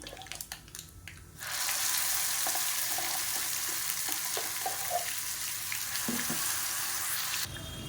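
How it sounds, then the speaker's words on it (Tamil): Ground red Chettinad-style chutney tipped into hot tempering oil with urad dal and curry leaves, setting off a loud, steady close sizzle that swells abruptly and holds until it cuts back near the end. "இப்போ நம்ம அரைச்சி வச்சுருக்க இந்த சட்னியை அப்படியே சேர்த்துக்கலாம்"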